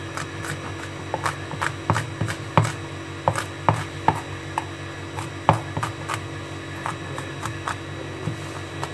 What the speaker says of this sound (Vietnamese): Khoai tây thì các bạn đừng thái mỏng quá